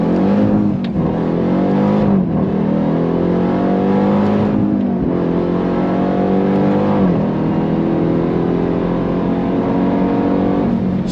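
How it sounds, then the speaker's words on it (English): A 2024 Dodge Durango Hellcat SUV with a supercharged V8 Hemi roars loud and close, climbing through revs with several sharp dips as gears shift, a continuous high-pitched supercharger whine riding over the engine. "It's the real deal Holyfield supercharged V8 Hemi."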